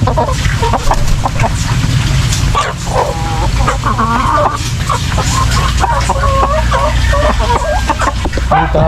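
A Texas gamecock rooster clucking repeatedly in a yard amid loud, continuous background noise, with other fowl sounds mixed in.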